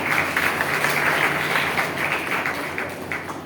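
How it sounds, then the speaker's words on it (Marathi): An audience claps for a young girl author whose book was published when she was in fifth grade, at a women's forum anniversary event. It is a moderately loud, dense patter of many hands that swells and eases slightly throughout. "जोरदार याच्यासाठी टाळ्या"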